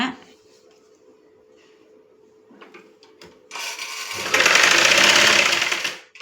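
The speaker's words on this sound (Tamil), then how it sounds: "இப்படி அகட்டி வச்சுக்கிட்டு அப்புறமா தையல் போடுங்க." A sewing machine stitches neck piping on a garment, starting after some quiet fabric handling with a loud, steady whirring run that builds and holds for about two seconds before cutting off.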